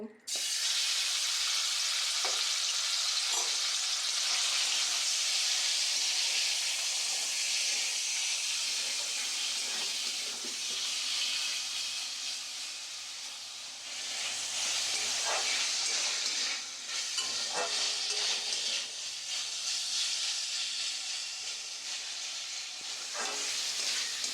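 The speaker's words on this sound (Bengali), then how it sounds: "চিকেনগুলো ওই তেলের মধ্যে দিয়ে দেবো, দিয়ে হালকা নাড়াচাড়া করে নেব।" Chicken pakora pieces fry in hot white oil in a wok, producing a loud, dense, continuous hiss and sizzle that swells and dips slightly as the pieces are gently moved.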